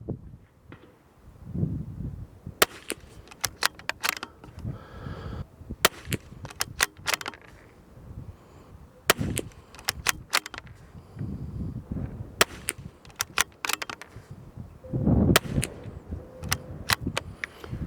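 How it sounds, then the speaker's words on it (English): Tikka T1x .22 LR rifle shooting Norma Match 22 ammunition, a string of sharp, close cracks at irregular intervals, several shots spaced a second or two apart with quieter handling noise between them. "I just thought I'd show a little firing anyway."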